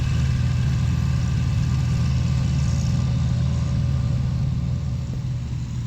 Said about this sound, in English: this is a 625 MoCo John Deere being pulled by a 3020 John Deere over at the neighbor's place